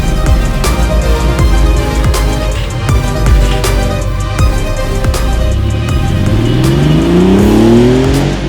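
A Porsche 964-generation 911 engine pulls hard while driving, loud and close with rising revs climbing through the gears and a steady mechanical roar throughout, no voices.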